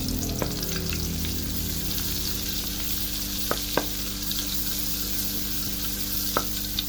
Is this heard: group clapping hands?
no